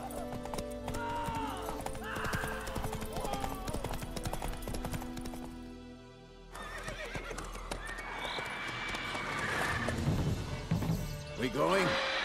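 A horse gallops in The Witcher 3 video game, with rapid clip-clop hoofbeats and a whinny amid game effects and crashes, while voices speak over the action.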